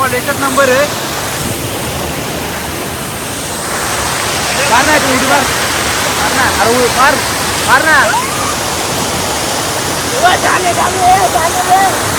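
Steady rushing of a waterfall below an overflowing dam fills the whole clip, with voices and shouts heard over the roar.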